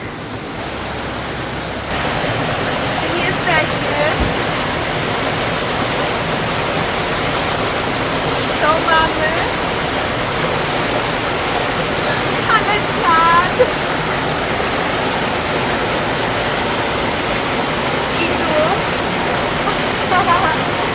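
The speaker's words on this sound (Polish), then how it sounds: "Tutaj mamy strumyczek." A small stream next to a café rushes steadily and loudly nearby, a continuous watery hiss while people speak briefly over it.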